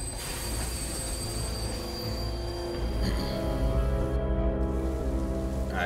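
A train rolls past close by in the video game Beyond Two Souls, a loud continuous rumble with high screeching wheel squeal and metallic clatter that swells slightly toward the end, with no talking.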